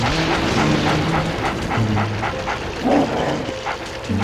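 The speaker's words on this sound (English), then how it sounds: "make that yappy dog be quiet" A ghost dog in Luigi's Mansion yaps and barks in short repeated bursts, loud and close over a dense, noisy game soundtrack.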